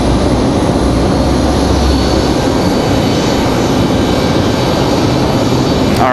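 A jet's auxiliary power unit runs steadily at Raleigh-Durham International Airport, a loud continuous roar and whine holding level for the whole stretch with no voices over it.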